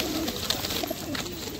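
Pigeons at the Konnagar pet market coo in soft, overlapping low murmurs close by, forming a dense continuous bed of bird sounds without speech.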